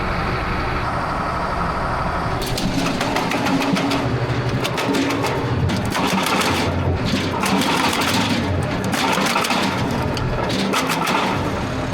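A Remet RP200 wood chipper runs loud and close with a continuous engine drone, breaking into rapid crunching and chattering bursts as wood is fed through and chipped.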